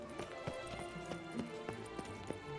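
Horse hooves in The Witcher 3 beat a quick, steady galloping clip-clop, close and moderately loud over a faint game background.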